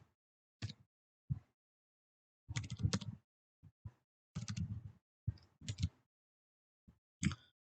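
Keystrokes on a computer keyboard as a password is typed, coming in short separate bursts of clicks with gaps between, fairly close and quiet, with no talking.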